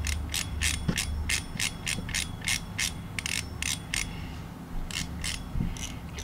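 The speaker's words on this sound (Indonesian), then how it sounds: "Ini bunyi dragnya. Cukup nyaring." Drag of a Kenzi Troya 300 spinning fishing reel clicking in quick, fairly loud ratchet bursts, a steady run of sharp clicks that pauses briefly and resumes, with no talking.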